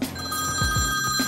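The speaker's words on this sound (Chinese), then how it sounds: "等我即刻打电话给龟头文博士先" A telephone rings on an outgoing call, a close electronic ring tone with repeating pulses filling the short moment, no talking.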